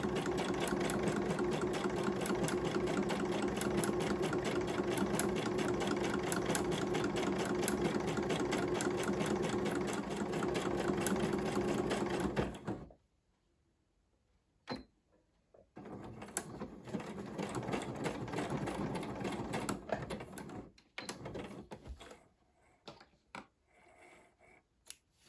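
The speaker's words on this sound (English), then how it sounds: "And I sewed around the edge like a little zigzag." A sewing machine stitches a zigzag around the edge of strawberry-print paper with a steady, close, whirring mechanical drone for about thirteen seconds. It then stops and gives a few shorter runs and clicks.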